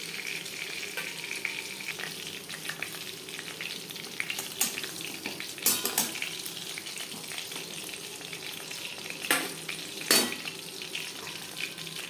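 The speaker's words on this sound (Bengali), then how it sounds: "পরের মাছ একইভাবে ভেজে নেব" Fish frying in a pan over low to medium flame, a steady crackling sizzle with a few louder spattering bursts, heard close and alone with no talking.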